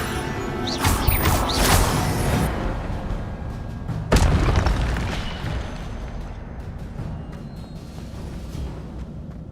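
Incendio and Levioso spells cast in the video game Hogwarts Legacy, a series of bursting whooshes and booming impacts, loud strikes near one and four seconds followed by a fading rumble, no voices.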